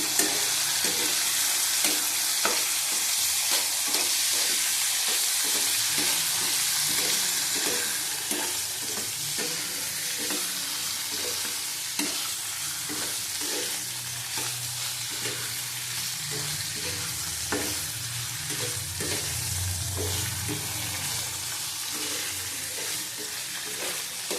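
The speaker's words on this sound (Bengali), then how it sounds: "হালকা ভেজে নেব" Prawns coated with turmeric and salt frying lightly in oil in a wok, a continuous close sizzle with soft scraping and stirring clicks throughout.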